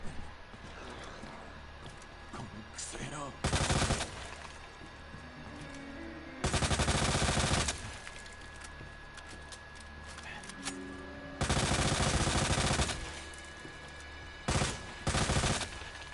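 LE 5 machine gun in Resident Evil 2, firing in four loud sustained bursts of rapid automatic fire separated by quieter gaps, with a steady tone and game ambience in between.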